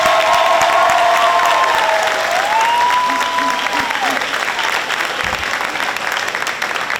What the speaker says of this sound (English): So how about you give them a hand right now?